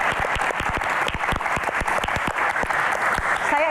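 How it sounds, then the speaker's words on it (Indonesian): Close, lively clapping from a small group, with distinct individual hand claps over a steady crowd patter that continues throughout. "Tepuk tangan untuk Sumatera."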